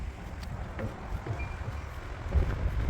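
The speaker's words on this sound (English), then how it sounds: "It's very windy here." Wind gusts buffet the microphone with low rumbling bursts outdoors at Fort Stanton, an intact Civil War fort, fairly faint and uneven, swelling stronger toward the end.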